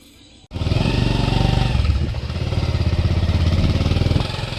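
A motorcycle engine starts up and runs steadily at a close, even drone, with a slight shift in pitch as it rides along.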